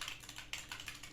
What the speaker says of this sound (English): a semi-mechanical keyboard,